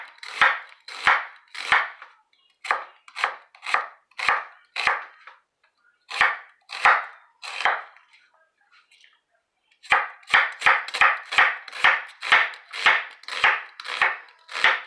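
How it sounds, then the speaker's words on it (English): An onion is cut lengthwise with a knife on a board, making a steady series of crisp, close chops that pause briefly midway and then resume in faster succession. "So you just want to get this chopped."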